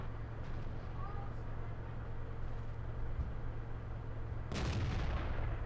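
A single heavy tank cannon shot in the World of Tanks video game, a loud sharp boom over a constant engine drone and battle rumble, the blast ringing out near the end.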